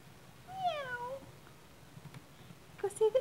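A cat gives two short meows, one early and one at the end, close and fairly clear against quiet household background.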